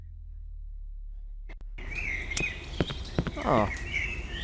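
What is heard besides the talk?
birds singing in the video game Cry of Fear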